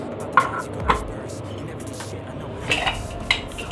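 A metal dish is set down onto a ring inside a pressure cooker with water, giving a few sharp metallic clinks and knocks close by, with quiet kitchen background between them.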